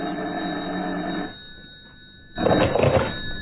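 An old-time telephone bell ringing in a radio crime drama: two loud, close bursts of continuous ringing separated by a short pause.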